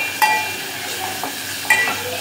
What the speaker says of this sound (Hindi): अब इसमें डालेंगे हम शिमला मिर्च और एक हरी मिर्च जिसको हमने ऐसे लंबाई में काट लिया है, उसी के साथ डालेंगे टमाटर